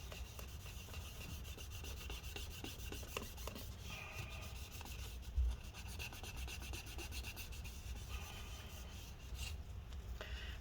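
Paper towel soaked in rubbing alcohol rubbing back and forth on a part inside a 2018 15-inch MacBook Pro A1990, a quiet continuous scrubbing with faint rhythmic strokes, close up and alone.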